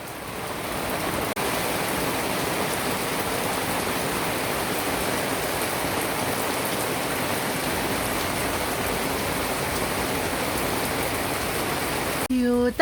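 Steady rain falling abroad in wet weather, a dense, even hiss of drops on surfaces that runs without a break and is close and fairly loud, cut off by a brief tonal noise at the very end.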